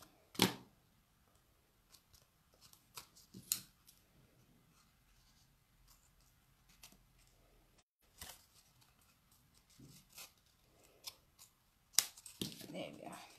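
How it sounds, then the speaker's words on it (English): Scissors trim patterned paper while making a card, giving scattered short snips and paper rustles at close range between quiet gaps, with occasional handling sounds. "and just trim it off."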